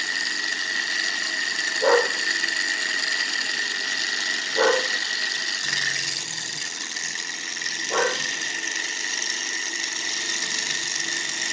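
A dog barks three times, single sharp barks spaced a few seconds apart, fairly distant, over the constant high whir of a small model Stirling engine running nearby.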